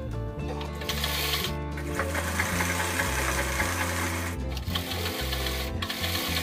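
A sewing machine stitching fabric for a hair rubber band runs steadily and loud close by, its needle giving a rapid, regular mechanical chatter with a few brief pauses.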